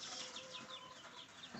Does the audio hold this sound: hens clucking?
yes